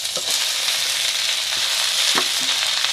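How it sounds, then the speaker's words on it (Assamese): Fenugreek greens and potato hit a wok of hot oil and fry with a dense, steady sizzle, with a few stirring scrapes and knocks close by and no voices. "যিখিনি মেটেকা আৰু আলু, সেইখিনি এতিয়া আমি পোনে পোনে কেৰাহীলৈ ট্ৰান্সফাৰ কৰি দিওঁ"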